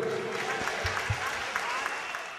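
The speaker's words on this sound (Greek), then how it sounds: "θέλω να δώσετε ένα δυνατό χειροκρότημα στην Αγγελική, στον Πάνο και στη Μιρέλα." An audience at a live Greek music show claps in applause, a moderately loud patter of scattered claps that thins out toward the end.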